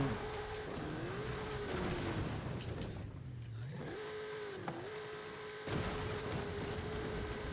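Car engine in the Forza Horizon 5 stunt park, droning steadily with pitch rising, dipping and rising again as gears change, a brief lull midway and a sharper knock near the end.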